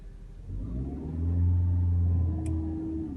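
A car's engine rumbles close by and rises in pitch as it revs, shifted into gear and pulling away, a low steady drone that swells then holds.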